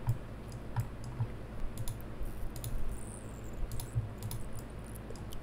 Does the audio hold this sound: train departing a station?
no